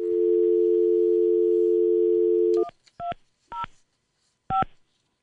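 A steady telephone dial tone on a landline call-back cuts off, followed by four short, separated touch-tone dialing beeps, clear and close with no talk.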